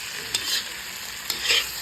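Mustard greens sizzle in a hot pan while a utensil scrapes and stirs twice, the short bursts standing out over the steady frying hiss.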